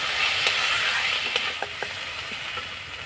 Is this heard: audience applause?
no